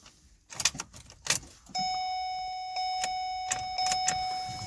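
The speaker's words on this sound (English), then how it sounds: "I'm going to try to crank it again" A key jangles and turns in the ignition of a 2009 Ford Escape Hybrid that won't start, followed by a sustained dashboard warning chime with a few more key clicks and no engine cranking.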